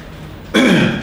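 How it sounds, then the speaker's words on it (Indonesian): A single short, harsh cough bursts out close by after a moment of quiet, fading over the next half second. "gue tuh batuk bukan kepedesan"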